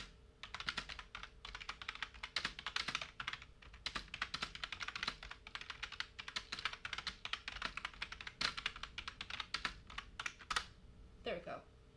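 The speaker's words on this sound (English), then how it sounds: "I can never spell because I type too quick." Fast typing on a computer keyboard, a steady stream of quick, close key clicks running almost without pause, with a brief voice-like sound near the end.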